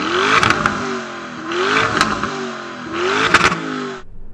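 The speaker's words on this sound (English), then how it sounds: "let's hear the Urus." A Lamborghini Urus engine revs hard three times in succession, each burst rising then dropping back, loud and close, before cutting to quiet at the end.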